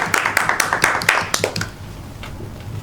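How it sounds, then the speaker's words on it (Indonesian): Students in a classroom applaud during a civics microteaching lesson: a brisk burst of many hands clapping close by that thins out and fades within about two seconds. "Beri aplaus untuk kita semua."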